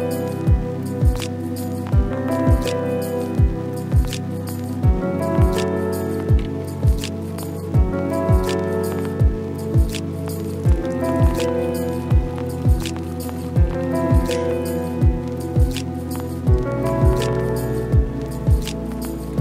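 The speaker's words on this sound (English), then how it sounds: "So while my coffee was brewing" A coffee maker brewing, with steady gurgling and rhythmic dripping that repeats about every second, moderately close and continuous with no talk.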